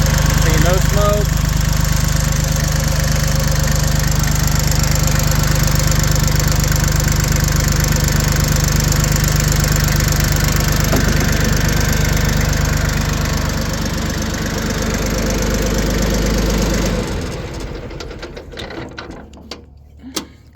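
A used Yanmar YM1720D diesel compact tractor engine idles close by with a steady, loud mechanical clatter and rattle, holding an even drone before dropping away near the end.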